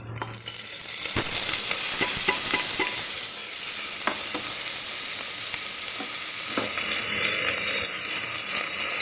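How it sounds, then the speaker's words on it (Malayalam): Mixed vegetables with curry leaves tipped into hot frying masala for veg pulao, giving a loud, steady sizzle with scattered stirring clatters that eases off near the end. "ഈ വെജിറ്റബിൾസ് എല്ലാം കൂടി നമുക്കിതിലേക്ക് ഇട്ട് കൊടുക്കാം"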